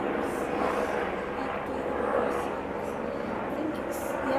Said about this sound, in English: Might be the helicopter.